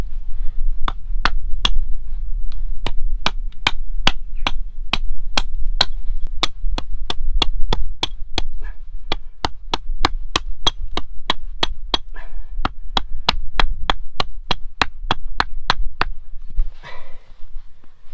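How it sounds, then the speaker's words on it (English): An axe chopping a point onto a wooden stake outdoors, a long run of sharp close hits in a quick steady rhythm, about forty strikes with a brief pause near the middle and a rustle at the end. "So I'm just going to put a point on this now with the axe."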